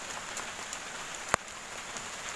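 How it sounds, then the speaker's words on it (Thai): Rain falls steadily in a rural village in northeastern Thailand's Isan region as a soft, even hiss, broken by one sharp nearby drop or tap striking a surface. "ฝนจะตกครับตกแล้วนี่"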